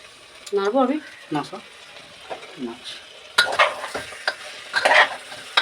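Rice grains poured and stirred into a pot of chicken pulao, with clinking of a utensil against the pot and light sizzling, following a voice talking at the start.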